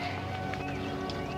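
Horse hooves clip-clop in a steady rhythm in a 1953 adventure film scene, faint and somewhat muffled beneath a busy background.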